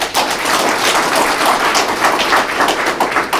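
An audience applauds award winners at the 14th Im Jong-guk Award ceremony: dense, steady clapping that holds at an even, loud level throughout with no break.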